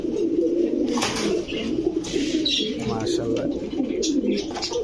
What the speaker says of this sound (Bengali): ডিমটা সহ কবুতরগুলো নিতে পারবেন দেখেন কবুতরগুলো